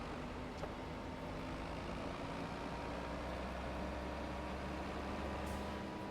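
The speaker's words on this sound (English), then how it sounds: "I'm going to back the tractor up a little bit." A Farming Simulator 25 tractor engine droning steadily while reversing, a continuous low rumble that stays even throughout with no talking.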